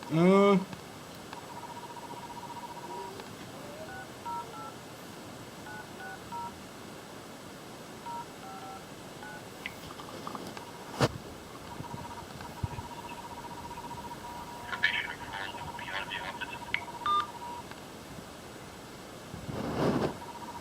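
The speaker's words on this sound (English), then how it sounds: "I'm calling the other agents right now to see if they'll pick up the phone and answer" A telephone keypad sends a series of short electronic tones in uneven bursts, followed by a longer held tone. A few clicks and soft handling noises sit faintly underneath, with no clear talk.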